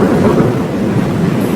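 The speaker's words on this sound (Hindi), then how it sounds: "कहीं बाहर जोर से बारिश और तूफान आने लगता है।" Thunderstorm with heavy rain outside a bungalow: a loud, continuous wash of rumbling thunder and dense rainfall that fills the scene steadily with no voices.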